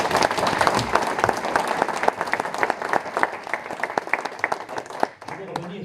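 An audience at an interview event claps, a crowd's applause running steadily and gradually thinning toward the end, with a voice talking over part of it.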